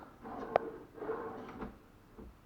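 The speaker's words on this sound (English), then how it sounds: "The soft close is working perfectly and the top drawer works properly." A soft-close kitchen drawer sliding shut, a muted rolling glide with a brief knock, then a slow, cushioned settle, close and quiet.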